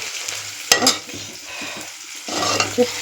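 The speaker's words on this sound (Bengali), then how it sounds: "এই যে পেঁয়াজটা ভেজে দিচ্ছি" Sliced onions fry in a hot pan, giving a steady close sizzle with a few sharp scrapes and knocks of a spatula against the metal.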